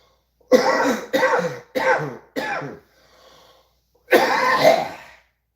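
Several rough, harsh coughs come in a quick series, a brief pause, then one longer hacking cough, all close and fairly loud.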